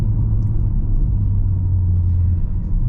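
A 2014 Honda Accord Coupe V6 drones in a low, steady rumble from inside the cabin while under way, constant and fairly loud with no talking.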